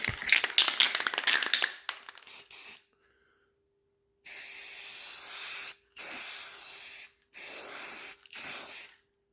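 White paint hisses from a spray can onto the edges of MDF board in several separate bursts of about a second each, close and fairly quiet, with pauses between and some tapping and handling noise before.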